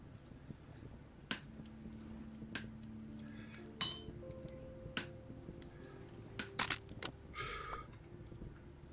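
Hammer strikes in a video game, sharp metallic clinks and taps repeating irregularly about ten times over low background tones and faint hums.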